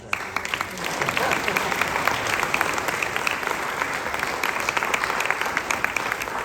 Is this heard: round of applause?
yes